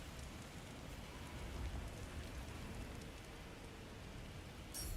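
A rain storm falls in Alfheim in the video game God of War Ragnarök, a soft, steady wash of rain with faint patter and no voices over it.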